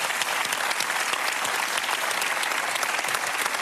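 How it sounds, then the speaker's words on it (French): A studio audience gives a harmony orchestra warm, sustained applause on a music television show, a thick steady wall of clapping from start to finish. "qu'on applaudit très chaleureusement"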